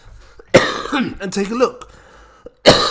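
A man sick with flu coughs and clears his throat, sharp close bursts breaking up his own speech, one near the start and another at the end.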